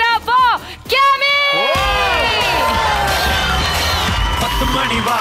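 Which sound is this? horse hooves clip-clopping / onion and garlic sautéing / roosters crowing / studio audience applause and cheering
studio audience applause and cheering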